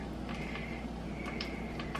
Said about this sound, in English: So if you can hear the popping in the background, that's my pan heating up